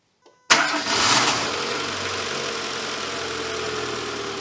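A Renault Clio 1.2 engine, fresh from an alternator drive belt change, cranks briefly and catches with a sharp burst. It flares, then settles into a steady, close idle with a faint rhythmic knock and no talk.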